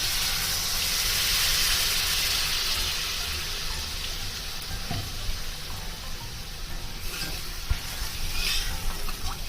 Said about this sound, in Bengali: মশলা থেকে তেল ছেড়ে গেছে, এবার আমি জল দিয়ে দিচ্ছি